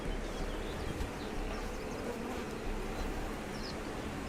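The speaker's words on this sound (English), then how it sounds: "I hear bees." Bees buzz in the survival game Conan Exiles, a dense, steady droning hum that fills the whole stretch evenly, with no voices over it.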